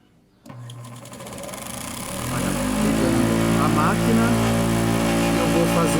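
A cotton candy machine switches on with a click and spins up, its motor hum building over about two seconds into a steady loud whir, with a voice talking over it.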